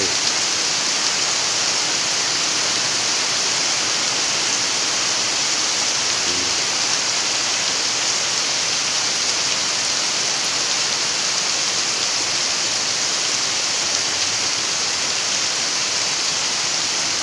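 Floodwater carrying debris rushes past in a loud, unbroken roar of churning water that holds steady from start to finish, with no voices.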